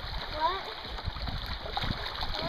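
Rushing river rapids on the Delaware River during a kayak trip, a steady churning wash of water with splashes, close and continuous under occasional voices.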